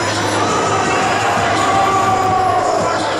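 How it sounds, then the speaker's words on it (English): Crowd at a professional wrestling co-main event, a steady roar of cheering and shouting that fills the space, loud and continuous throughout with no clear talk on top. "What a crowd."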